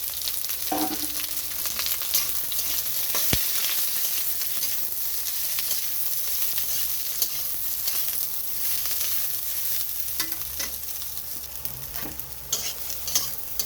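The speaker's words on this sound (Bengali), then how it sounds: "এখানে পেঁয়াজটাও ভাজা হয়ে গেছে" Chopped onions and cashews fry in a pan with a steady, dense sizzle, broken by occasional stirring clinks and scrapes.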